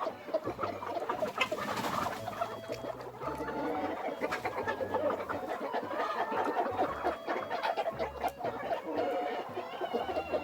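Several Cheonggye chickens on a forest farm cluck and murmur close by in a steady, busy stream of short calls, with occasional louder squawks.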